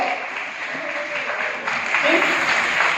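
Audience members at a press conference for a fantasy series clap in a sustained round of applause, a moderately loud, even patter of hands filling the room, with a faint voice briefly rising near the end.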